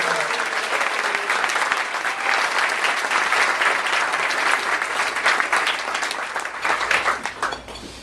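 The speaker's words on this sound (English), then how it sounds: "Let's give him a big round of applause." An audience at a comedy and magic club breaks into loud, sustained applause, dense clapping filling the room throughout before thinning slightly at the end, with no talking over it.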